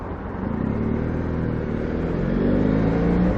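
A BMW F800GS motorcycle trickles along in a low off-road gear, its engine a steady, close drone that rises slightly in pitch toward the end.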